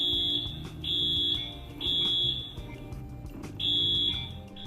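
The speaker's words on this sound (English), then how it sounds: "anytime you hear a sound that sounds anything like an alarm" A building fire alarm sounds in four loud, steady electronic tones about a second each, with short gaps between them, over a low rumble of room noise and no talk.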